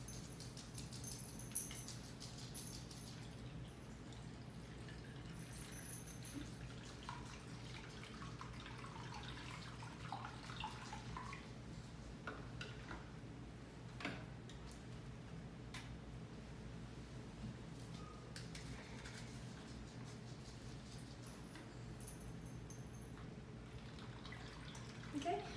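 Warm water runs into an enema bag in a clinical skills setting, making a soft, steady trickle and pour throughout, faint and continuous.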